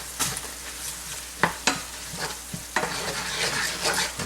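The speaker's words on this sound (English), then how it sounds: "Stir that shit in there" Vegetables fry in a pan while a spoon stirs them, giving a steady sizzle broken by a few sharp scraping knocks against the pan, close by and without talk.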